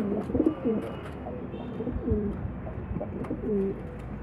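French meat pigeons coo softly in their nest in Damietta, several low, throaty calls repeating in short, close phrases over a quiet background.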